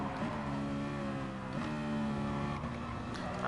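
Race car engine in a racing sim during an FIA Manufacturer series lap, a steady loud drone with rising harmonics and brief dips as it shifts up through the gears, no voices.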